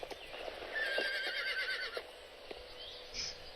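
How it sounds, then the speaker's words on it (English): A horse in the video game Star Stable neighs with a shrill, wavering whinny over rhythmic clip-clopping hooves, fairly close, followed by a short soft snort. "So those are the sounds of the horses make."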